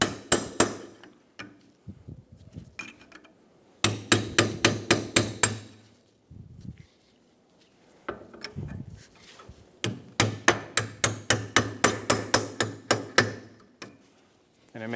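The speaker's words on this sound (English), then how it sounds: "take a little chisel, put it inside of the groove, and split the bearing open" A hammer drives a chisel into the groove of a front wheel hub bearing module on a 2003-2007 Infiniti G35 to split it. Sharp metallic blows come close and loud in rapid bursts of several strikes, with short pauses and a few quieter taps between.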